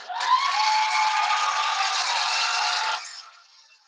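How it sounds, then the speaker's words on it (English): Applause from an audience at a talk, a steady burst of clapping that holds loud for about three seconds, then tails off. "I got to give him another round of applause, ladies and gentlemen, because I can."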